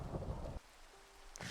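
A rumble of thunder with rain in the video game Minecraft, a dense low roll that cuts off abruptly, followed by quiet and then a brief renewed burst.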